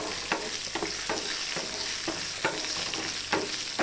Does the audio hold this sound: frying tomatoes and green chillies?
yes